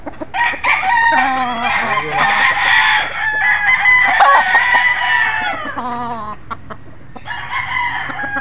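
A Golden Boy sweater gamecock rooster crows loudly and close, with one long drawn-out call followed by a shorter call, and clucks between them.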